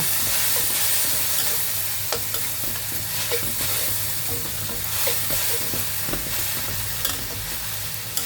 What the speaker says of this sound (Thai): จากนั้นก็ผัดเลยจ้า ผัดให้แห้งเลยนะคะ ผัดให้แห้งๆเลยจ้า